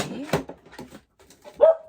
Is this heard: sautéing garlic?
no